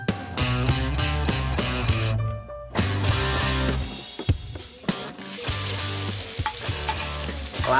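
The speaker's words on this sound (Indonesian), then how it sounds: "Langsung tumis bumbu halus dan daun salam" Ground spice paste and bay leaves sauté in a hot pan, a loud sizzle under frequent clacks and scrapes of stirring, with a bubbling wetter hiss in the latter part and no voices.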